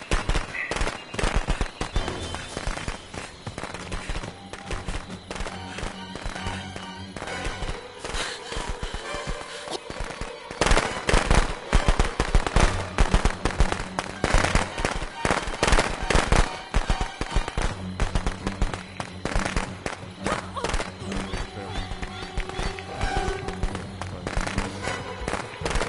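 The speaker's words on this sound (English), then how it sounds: "Firecrackers." Rapid bursts of crackling pops from firecrackers in a video game, dense and chaotic, with louder volleys midway and continuous game noise underneath.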